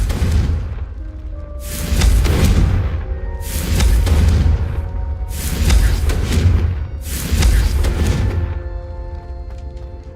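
Confringo blasting curses explode in the Hogwarts Legacy video game, four loud, rumbling booms spaced about two seconds apart over a constant low drone of game ambience.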